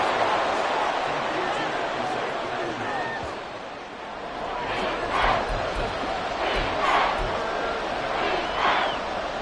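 A stadium crowd at an American football game roars and cheers steadily, a broad wash of voices swelling in places, with a commentator talking over it.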